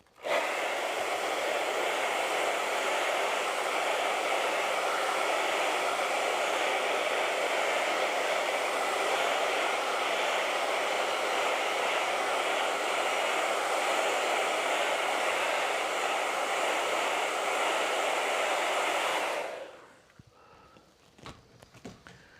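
Hair dryer running steadily to dry acrylic paint, a loud, continuous broadband whoosh lasting about nineteen seconds before switching off abruptly, followed by faint handling noises.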